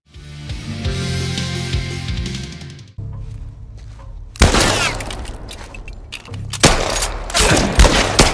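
Video game gunfire rattles in loud bursts of rapid shots mixed with breaking-glass crashes and heavy impacts, dense and close, after a stretch of music, with no voices.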